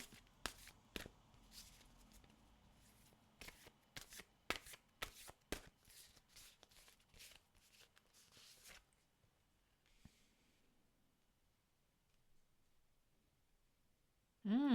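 A deck of oracle cards is shuffled by hand in quick, crisp bursts of riffling and flicking, close and fairly quiet, then stops and leaves near silence before a brief voice at the very end.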